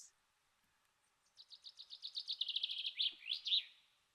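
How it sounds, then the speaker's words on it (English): A single small bird gives a quick run of rising, repeated chirps ending in a few louder tweets from trees in a humid, green forest setting; close and clear against a quiet background, with no speech. "The birds in the trees,"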